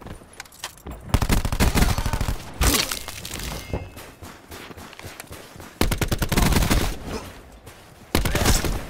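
Heavy automatic gunfire from a Call of Duty: Black Ops 4 match on the map Ruin, loud close bursts repeating through the clip with short pauses between volleys.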